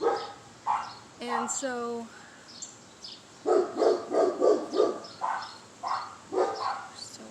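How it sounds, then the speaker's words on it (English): Several dogs next door bark in bursts, some loud yelps and a whimpering howl among them, heard somewhat distant behind a woman's quiet speech indoors. "Sorry about the dogs next door."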